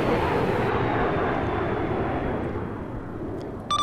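A Su-25 Frogfoot jet in Arma 3 roars overhead with a broad, loud rushing engine noise that slowly fades as it passes, heard alone.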